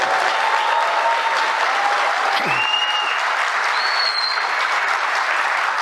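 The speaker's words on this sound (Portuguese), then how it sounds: "Uma salva de palmas a ela" Sustained applause from a crowd, steady and dense throughout, with a few faint whistles rising above the clapping.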